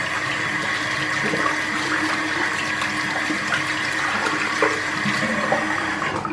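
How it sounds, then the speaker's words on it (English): Cold tap water runs in a steady, loud stream as a bar of handmade pink clay soap is rinsed under it, with a continuous splashing rush and no talk. "That's just cold water I'm rinsing with there."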